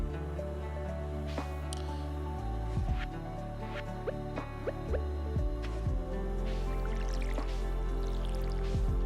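Watering crops in the Stardew Valley video game gives soft dripping, squishy splashes that recur at intervals over steady background music, with no talking.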